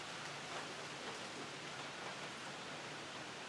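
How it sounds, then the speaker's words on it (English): Steady rain hisses down on a porch nearby, a dense, even patter with no breaks and no voices. "It's raining on this end of the porch."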